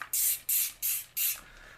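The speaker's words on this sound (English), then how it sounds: "See, that spray bottle's perfect." A spray bottle squirts airbrush cleaner in four quick, close hissing bursts with short gaps between them.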